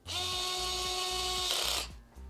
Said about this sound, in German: Ihr seht schon, die Löcher passen dann und dann schrauben wir die jetzt einfach fest